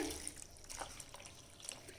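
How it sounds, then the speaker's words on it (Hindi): Water is poured from a tap into a pan of strawberries being prepared for jelly, giving a soft, steady trickle and splash close by, faint and continuous with no talk. "इसमें हम पानी डालेंगे,"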